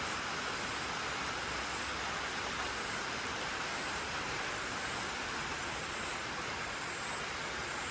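Heavy rain pours down in a steady, unbroken hiss that fills the whole stretch, dense and fairly loud, with no voices.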